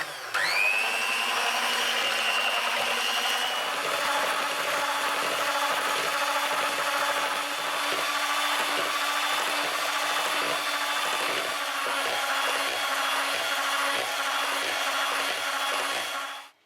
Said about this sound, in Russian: Яйца с сахаром взбиваем довольно долго.